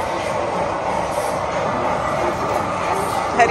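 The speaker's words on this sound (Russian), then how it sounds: "Вот такой поезд привез нам напитки" A miniature train running on small iron rails in a restaurant rolls past delivering drinks, a steady low rumble and rattle under background room chatter.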